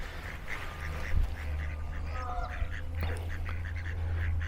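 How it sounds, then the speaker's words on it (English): Ducks on Marine Lake in Skegness giving a few scattered quacks amid a low steady outdoor rumble, moderately distant and fairly faint, with a voice talking faintly in the background. "I think we just got ducks, pigeons and seagulls currently"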